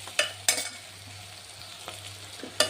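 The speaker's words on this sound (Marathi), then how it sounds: "आपल्याला थोडंसं ना हा मसाला छान असा मध्ये परतवून घ्यायचा आहे, खालीवर याला करत राहायचे." Masala being stirred and sautéed in a pan for Nilanga rice, with a few sharp spoon scrapes and knocks over a faint steady sizzle and low kitchen hum, no talking.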